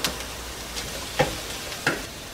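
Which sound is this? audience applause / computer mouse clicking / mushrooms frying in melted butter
mushrooms frying in melted butter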